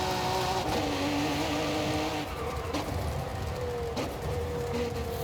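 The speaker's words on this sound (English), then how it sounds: "these are much better pops and bangs though" Cadillac in the Forza Horizon 5 racing game with engine drone and exhaust pops and bangs crackling through it, steady loud car sound throughout with brief sharp bursts near the start, middle and end.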